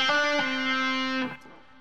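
A held guitar note rings clearly, then cuts off as the fretting finger lifts from the string, leaving a faint, soft release.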